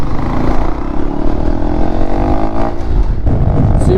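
A Honda Grom motorcycle with an aftermarket exhaust pipe rumbles loudly nearby, its engine note rising and falling through rev changes over a steady low drone.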